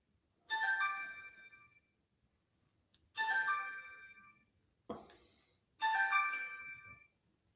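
A phone ringtone plays a bright chiming melody in four bursts, with short pauses between them, fairly faint and alone without talk.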